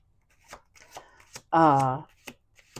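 Soft ticking tarot card flicks, then a brief burst of cards riffling together, followed by a few more light taps. A short voiced sound overlaps the riffle.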